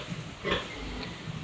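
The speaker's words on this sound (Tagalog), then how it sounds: "Ito naman pong mga baboy nila ate" Pigs in a farm pen grunt and oink at close range, with one louder snort-like burst in the middle over steady low rumbling background noise.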